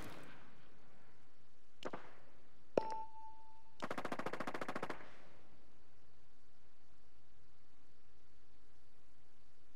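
Gunfire in a video game: two sharp single shots, then a short rapid machine-gun burst of about a second, followed by quiet.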